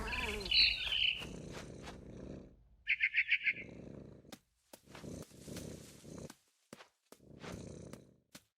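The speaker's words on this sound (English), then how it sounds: "Then I heard chirping outside my window. It was a barn swallow going back to her nest." A barn swallow from What Remains of Edith Finch chirps in a short, rapid burst of high, bright notes, with rustling, soft thuds and a low purring cat sound around it.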